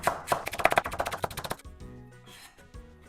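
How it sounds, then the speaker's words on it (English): A knife chops scallion into small pieces on a cutting board in a home kitchen, a quick run of about a dozen crisp, close taps that stops abruptly halfway, leaving only quiet room tone. "I'm gonna make a slit in the middle and cut into small pieces."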